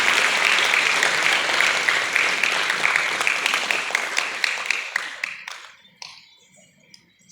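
Crowd at a Marathi public gathering clapping for a group photo, a loud, dense round of applause that thins into scattered claps and dies away after about six seconds, with faint voices underneath.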